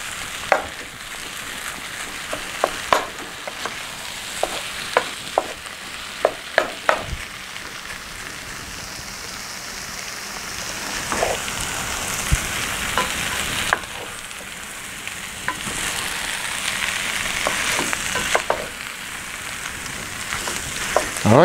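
Ground hamburger meat browns in a pan for a hamburger stew, giving a steady, close sizzle and crackle with occasional sharp clicks of stirring, heard alone throughout.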